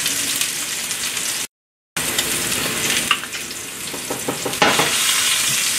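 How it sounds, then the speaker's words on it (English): Spiced swordfish steaks searing in a pan give a loud, dense, continuous sizzle up close, with a brief dropout partway and a surge in intensity near the end. "We're gonna let them cook, nicely sear."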